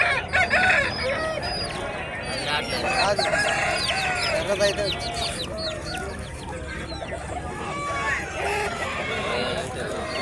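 An Abras rooster crows loudly and repeatedly at the busy Nallapadu chicken market, amid clucking fowl and other birds, with people talking in the background throughout.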